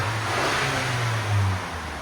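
A stock-exhaust 2022 Ford Maverick 2.0 turbo engine revs at close range, a steady low drone that swells in a single brief rise before settling back.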